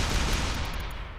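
Weapons fire in the artillery video game Shellshock Live, a short dense burst of booming shots that fades slightly over about a second, fairly quiet overall.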